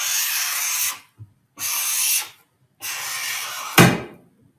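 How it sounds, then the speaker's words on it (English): A cutter drawn firmly along a plastic sheet at the edge of a table to score a groove: three long, even scraping strokes, each about a second, close and fairly loud, followed by a short knock. "And your first draw is always just to make a groove to fall in"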